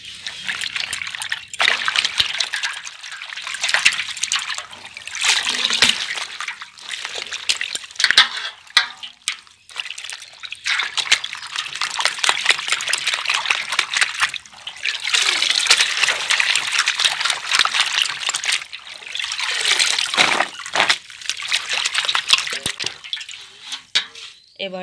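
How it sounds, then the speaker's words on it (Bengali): Chopped greens, onion, garlic and green chilies are rinsed under water in a village kitchen, with continuous trickling and splashing, brief gushes and handling noises rising and falling over about 25 seconds. "এবার এগুলোকে ফ্রেশ করে ধুয়ে নিচ্ছি।"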